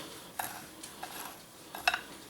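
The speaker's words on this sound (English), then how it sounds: "And then we'll just give it a little stir around." Garlic being stirred around in a pan: a few quiet, scattered scrapes and clicks of a utensil against the cookware, faint and spaced apart with no talking.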